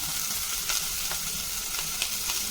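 Sliced big onions and curry leaves saute with popped mustard seeds and a sprinkle of salt in oil for bitter gourd poriyal, a close, even frying hiss with a few faint stirring scrapes.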